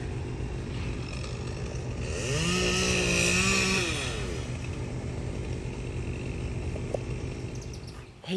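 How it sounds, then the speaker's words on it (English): Tree trimmers' chainsaws run somewhere in the neighborhood, a moderately distant buzzing drone that swells and revs for a couple of seconds before settling back to a steady background whine. "there's tree trimmers in the neighborhood, so you get to hear tree trimmer saws going on"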